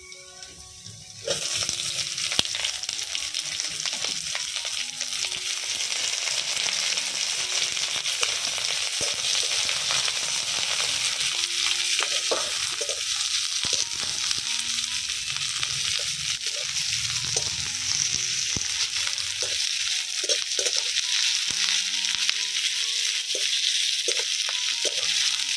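Chopped onions hit hot oil over fried whole garlic cloves while lentil curry is prepared, giving a loud steady sizzle that holds for the whole stretch with faint scattered clinks.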